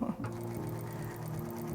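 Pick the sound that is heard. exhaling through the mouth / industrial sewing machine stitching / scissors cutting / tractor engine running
industrial sewing machine stitching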